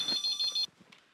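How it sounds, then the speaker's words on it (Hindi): A telephone rings indoors with four rapid trilling bursts, clear and fairly loud, then cuts off abruptly as if answered, leaving quiet room noise. "बस एक अजीत भाई का बाकी है, लगता है उन्हीं का फोन है।"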